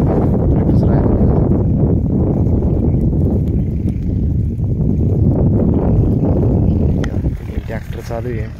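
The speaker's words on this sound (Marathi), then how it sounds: "ट्रॅक्टर चालू आहे" A tractor engine runs in a field while ploughing with a Lemaken Opal 90 plough. Its loud, dense low rumble is mixed with wind buffeting the microphone, and the engine drones steadily throughout.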